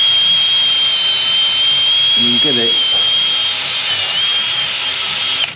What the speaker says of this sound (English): how I do it is with a drill, wire brush on the end, nothing too abrasive